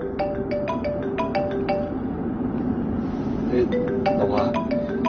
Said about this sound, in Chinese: 那个我手机响了